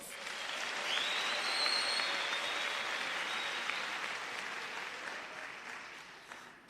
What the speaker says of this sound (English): Please give yourself a warm round of applause